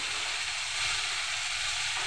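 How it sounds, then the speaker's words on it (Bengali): Spice masala with tomato sizzling loudly in a pan right after water is poured in, a steady close bright hiss and crackle for about two seconds with no voices. "বাটি ধোয়া পানিটা এখানে দিয়ে দিলাম মশলাটা কষানোর জন্য।"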